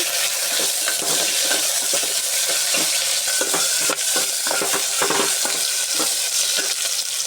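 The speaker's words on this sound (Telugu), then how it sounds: "బాగా మిరకాయలు బాగా వేపేసుకోవాలండి ఎర్రగొచ్చే వరకు" Curry leaves, green chillies and cumin frying in oil in a pan for a village-style curry, a steady loud sizzle with a spoon stirring and scraping in a quick rhythm, close up, without talk.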